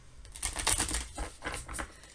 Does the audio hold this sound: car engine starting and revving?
no